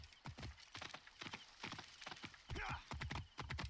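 A horse gallops in Assassin's Creed Origins with rapid, rhythmic hoofbeats close by, and a brief whinny partway through. Faint talk sits underneath.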